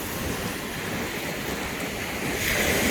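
Lake Michigan surf rolls and crashes continuously close by, a broad steady roar of waves mixed with wind buffeting the microphone, swelling slightly louder near the end.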